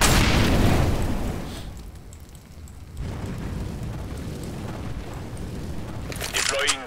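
An incendiary grenade goes off in the game CS:GO, a loud, sustained roaring whoosh of fire that eases briefly, then swells again with a sharp crackling burst near the end.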